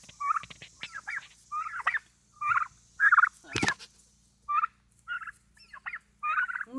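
Backyard turkeys about three or four months old gobble and chirp up close in a string of short, separate calls. One sharper squawk rises in the middle of the sequence.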